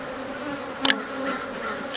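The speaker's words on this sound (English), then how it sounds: "See, this hive is full of bees" Honeybees in a hive full of bees hum in a steady, dense buzz close by, with a brief sharper buzz of a single bee passing near midway.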